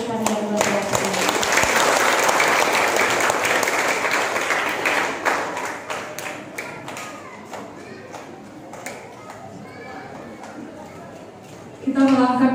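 Warm applause from a congregation at a church anniversary celebration, dense and loud at first, then thinning into scattered claps as a voice speaks over the fading clapping.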